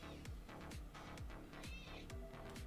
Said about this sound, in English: Don't just meow at me.